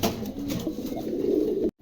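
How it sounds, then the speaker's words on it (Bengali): A pair of white-topped pigeons, moulting, coo softly and continuously at close range, the low cooing running steadily for under two seconds before cutting off. "চমৎকার এক জোড়া কবুতর"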